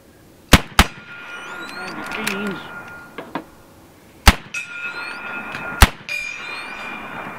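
Sharp, loud shots from a BIN TAC S45 semi-automatic air rifle on its final magazine during a 200-shot durability test, firing in uneven spaced bursts with metallic ringing between shots.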